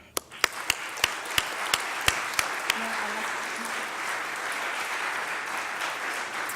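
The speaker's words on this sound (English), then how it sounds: "Please join me in applauding and thanking everyone who had a part in the success of this initiative." Audience applause at a Philadelphia mayor's press conference: a few separate claps start it off, then a sustained, even wash of clapping from many hands continues to the end.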